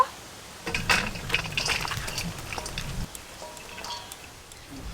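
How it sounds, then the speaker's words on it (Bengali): Cooked pulao rice is tipped out of a pot, giving a soft, close, pattering rush of grains for about two seconds before fading to quiet scraping. "এবার কিন্তু পোলাও হয়ে গেছে, ঢেলে নেব।"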